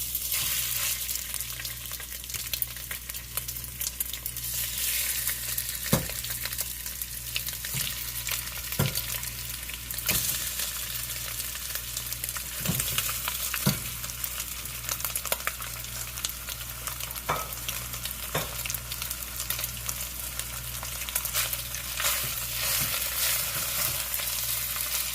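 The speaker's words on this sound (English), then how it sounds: "So we're gonna start sticking the beef in." Beef sizzles steadily in hot oil in a pan, a constant dense crackle lasting throughout, with occasional sharp pops and stirring clicks breaking through at irregular intervals.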